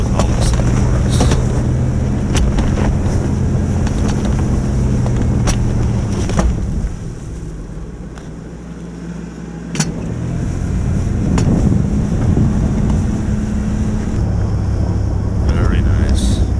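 A small truck plows snow off a driveway, its engine droning steadily up close with rumbling low tones and wind buffeting, easing briefly midway before building again, while someone talks over it.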